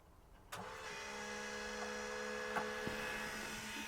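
A sharp mechanical click starts a steady hum with a low tone underneath, broken by a few faint clicks, as the valves of a homemade maple syrup vacuum releaser cycle nearby.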